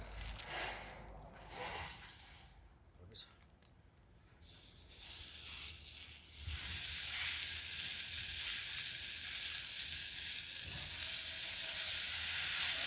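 Steady, crackling sizzle of beef frying in a hot pan, growing louder and denser partway through, with no talking.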